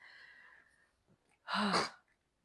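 A single sharp sneeze, close and fairly loud, preceded by a faint breathy intake and followed by quiet.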